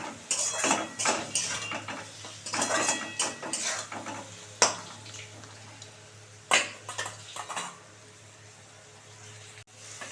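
Hyacinth beans are stir-fried in a pan with repeated metallic scrapes and clinks of a spatula against the pan, coming in bursts with quieter gaps, close and moderately loud.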